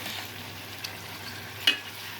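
Fish pieces in chili masala sizzle softly in a pan while being stirred, a low steady frying hiss with a couple of brief scraping clicks, close and fairly quiet.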